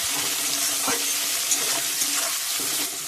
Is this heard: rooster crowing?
no